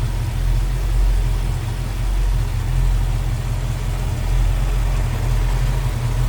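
A 1966 Ford Mustang coupe's 289 V8 engine idles with a deep, steady, slightly lumpy rumble, loud and close, holding an even rhythm throughout with no voices.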